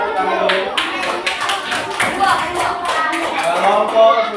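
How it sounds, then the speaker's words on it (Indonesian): A classroom of students claps together after a group presentation, a close, brisk burst of hand claps with a loosely rhythmic patter and some voices underneath. "tepuk tangan dulu."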